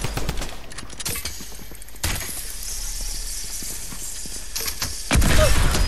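A drum shotgun firing in the video game Fortnite: a few sharp, loud blasts spaced a few seconds apart, up close amid busy game noise and clattering.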